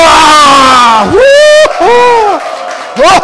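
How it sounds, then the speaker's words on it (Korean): An audience at a lecture shouting and cheering in loud, bright bursts of whooping voices, short rising yells separated by brief gaps, close and forceful. "함성 지르고 나니까 더 기분 좋죠?"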